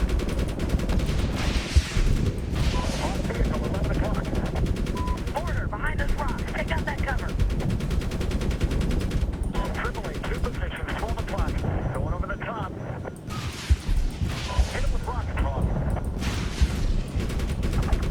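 Gunfire in Medal of Honor (2010) rattles in rapid bursts and repeated shots, with explosions mixed in and a voice talking in Ukrainian at times over the din.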